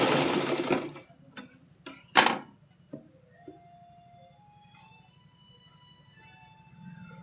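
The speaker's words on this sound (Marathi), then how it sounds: "लेस जाड असल्यामुळे सगळ्या ठिकाणी आपल्याला डबल शिलाई मारायची आहे." A sewing machine double-stitches thick lace onto a dress. A brief loud burst of activity gives way to a steady, low motor whir and stitching rhythm that runs close by with no talking.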